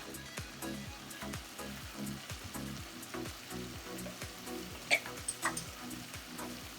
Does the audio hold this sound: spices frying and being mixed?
yes